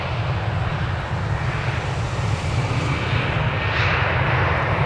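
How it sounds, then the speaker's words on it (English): A jet airliner departing DFW on flight 1543 to Cancun produces a continuous loud roar with deep rumble and broad hiss that builds slightly toward the end, and no voices are audible. "these passengers and this crew, they're off to Cancun, Mexico on flight 1543"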